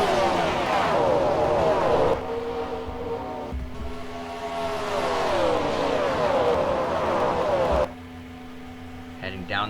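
Stock race cars restarting at Kentucky in a 2005 MG Cup Series race roar past toward turn 1, a loud sustained engine drone with shifting pitch as they pass close by, continuing for several seconds.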